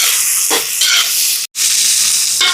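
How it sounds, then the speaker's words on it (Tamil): Onions, green chillies and curry leaves sizzle steadily as they sauté in hot oil in a home kitchen in Sri Lanka. The hiss is loud and close, with a brief gap partway through. "வெங்காயம், பச்சை மிளகாய், இதெல்லாம் நல்லா வதங்கட்டும்"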